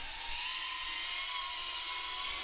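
Small BETAFPV Meteor 75 Pro drone propellers buzz steadily at a high, whining pitch, constant and close, with no voices.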